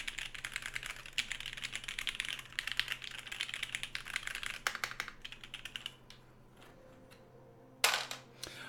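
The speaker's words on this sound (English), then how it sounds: "Those are the 55-gram creamy switches. And they sound amazing with PBT." Fast, close clacking of a mechanical keyboard fitted with 55-gram creamy switches and PBT keycaps, quiet rapid keystrokes for several seconds, then a pause and one louder final press.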